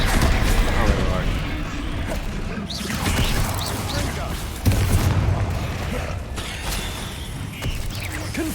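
Explosion spells Confringo and Bombarda in the Hogwarts Legacy video game burst in repeated booms and crashes with rattling mechanical clatter, dense and loud, overlapping a voice speaking.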